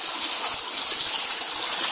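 Hidden Falls on the Mississippi River in St. Paul, a loud, steady rushing of falling water heard close up, a continuous hiss without pause.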